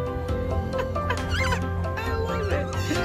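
A bird at Jungle Island clucking in quick, uneven bursts, close and fairly loud, mixed with background chatter and people talking nearby.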